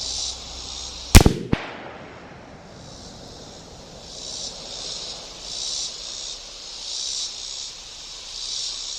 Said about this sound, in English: Second shot, hopefully it's closer to the